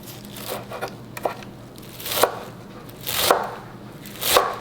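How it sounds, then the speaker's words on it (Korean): Garlic chives (buchu) being chopped with a knife into roughly 1 cm lengths for egg dumplings, a few separate crisp cutting bursts spaced about a second apart, close and clear with no talk. "그냥 한 1cm 길이로 잘게 이렇게 썰어주세요."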